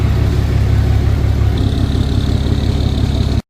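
An 8,200-pound Dodge diesel truck rolling into a garage, a loud, close, steady low engine rumble with a faint whine rising partway through, cutting off abruptly at the end.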